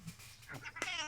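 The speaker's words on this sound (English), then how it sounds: "I'm trapped in some weird hell where my show's being copied and cats are talking." A cat meows in a few short, rising calls over a faint background hum, with the last call the loudest and most drawn out.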